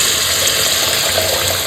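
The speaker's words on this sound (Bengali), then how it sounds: "যেহেতু তেল কই সেই অনুপাতে জল দেবো" Water poured into a pan of koi fish curry with oil-separated spice paste and melted tomato, a steady continuous gushing pour, fairly loud and alone, with no talk.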